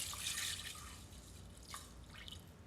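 Water poured into a pot of sticky rice during meal prep, a steady splashing pour with hiss and drips, loudest early then tapering off, with no talking over it.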